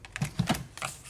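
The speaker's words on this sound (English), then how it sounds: "I can cut a little bit off of that one." Paper pages being trimmed for a soft-cover single signature journal, heard as a few short, crisp snips close by with no talking.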